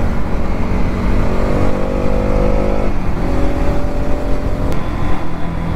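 A 200cc sport motorcycle, either a Pulsar NS 200 or an Apache RTR 200, is ridden on the road during a mileage test, its engine droning steadily close up with a gear-change dip midway.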